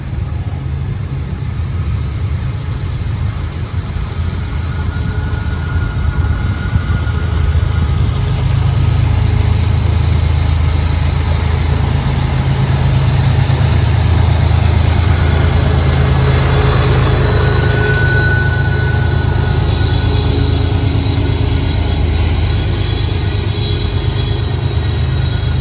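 A freight train with a mid-train diesel DPU locomotive rolls past close by, making a steady, loud rumble of wheels and wagons with a low engine drone and faint metallic squeals throughout.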